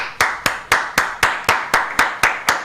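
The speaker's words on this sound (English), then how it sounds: "Can we get a round of applause for Dan Campbell?" A single person claps ten times in a steady, even rhythm, each sharp clap loud and close and decaying quickly, with no crowd joining in.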